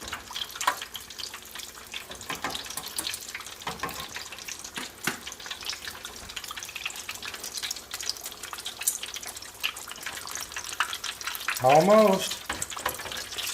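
Homemade fruit hand pies made with loaf bread bubble in a deep fryer, a steady crackling sizzle running throughout, with a brief voice speaking near the end.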